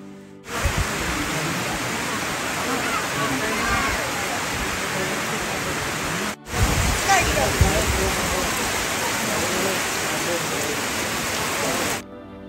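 Heavy rain pours on a remote mountain village, a dense, steady hiss at constant loudness that breaks off for a moment partway through and then resumes just as strongly.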